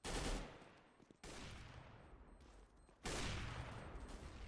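Rapid gunfire from a CS:GO match in a university esports semi-final: three loud bursts of shots, each starting sharply and trailing off, with no talk over them.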